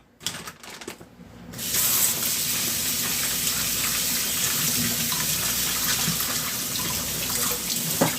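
Strawberries rinsed under a running kitchen tap: after a few handling clicks, a steady, loud rush of water pours continuously for several seconds with faint splashes.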